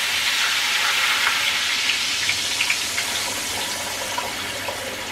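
Tap water runs steadily into a cooking pot, filling it between a third and half full, a broad continuous gushing hiss with faint splashes, close and alone without speech.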